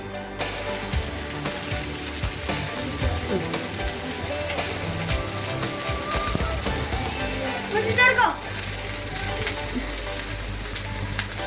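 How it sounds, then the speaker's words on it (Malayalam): Vegetables stir-fry in a little oil, sizzling steadily and close throughout, with scraping and clattering of a utensil against the pan. "സ്റ്റിർ ഫ്രൈ ആണ് ചെയ്യുന്നത്"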